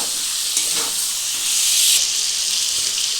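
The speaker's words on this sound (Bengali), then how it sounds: "এর মধ্যে এবার পটল, আলু আর চিংড়ি মাছ যেটা ভেজে রেখেছিলাম সেটা নিয়ে এবার দিয়ে দেবো" Fried pointed gourd, potato and shrimp go into frying onions, bringing a loud steady hiss and sizzle of hot oil close by, with light stirring noises.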